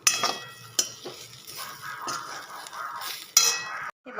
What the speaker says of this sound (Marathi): आपण आता मसाला भाजत आहोत छान असं भाजून घ्यायचं